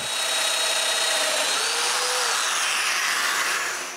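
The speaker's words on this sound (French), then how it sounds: "Puis, je perce toutes les mortaises." A domino joiner bores mortises into wooden frames for a bathroom vanity, producing a loud, continuous high-pitched whirring cut held steadily for several seconds, close up and without talk.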